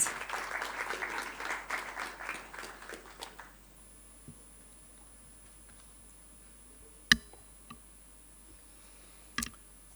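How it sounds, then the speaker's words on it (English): Audience applause at a World Vision campaign launch in the Asia Pacific, a dense burst of clapping for about three seconds that fades out, leaving a quiet room with a few sharp clicks. "Please give Mr. Selvanayagam a round of applause"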